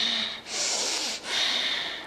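A voice imitates forceful, overly effortful yoga breathing with a few loud, close, hissing breaths in a steady in-and-out rhythm, alone without speech.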